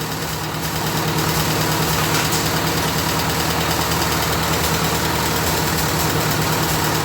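A heavy 1941 Ford 9N tractor engine runs steadily at a low, throbbing idle while the hydraulics operate, loud and close, with a constant mechanical vibration.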